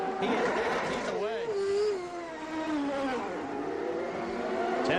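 A 1997 CART race car accelerates away from a pit stop at Portland, its high-pitched engine climbing through rising and falling rev sweeps, loud and close, under a commentator's excited talk.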